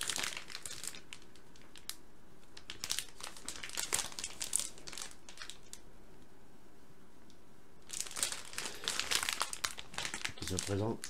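A computer motherboard is pulled from crinkly plastic packaging, giving bursts of close crumpling and rustling with a quieter pause in between.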